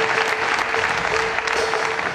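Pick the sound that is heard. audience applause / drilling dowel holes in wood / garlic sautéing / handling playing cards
audience applause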